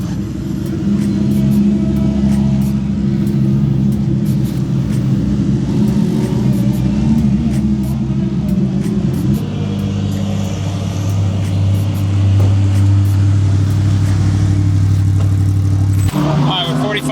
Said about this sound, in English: you can enjoy some Lambos driving by after their race